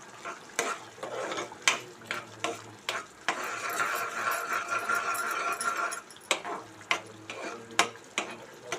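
A spoon stirs masala pappu, a lentil dal, in a pan after chili powder and salt go in. Rhythmic scraping strokes repeat about once a second, with a longer stretch of soft sizzling stirring in the middle and no talk.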